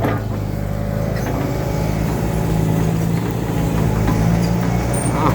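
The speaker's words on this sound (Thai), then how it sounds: "กระหึมเหมือนเดิม เครื่องยนต์ร้อยสี่สิบห้าแรงมานะคุณผู้นะ" A 145-horsepower vehicle engine roars with a steady low, loud rumble that holds for several seconds, close by with no talk over it.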